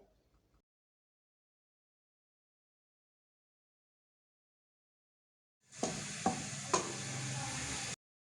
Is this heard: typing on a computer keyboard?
no